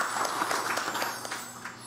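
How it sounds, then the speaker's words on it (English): Steady applause from a church congregation at Easter Sunday Mass fills a large room, dense clapping at an even level throughout with no voices on top. "Let's give him a round of applause for this mighty God."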